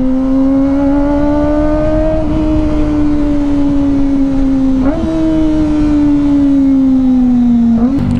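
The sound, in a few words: Kawasaki ZX25R motorcycle engine revving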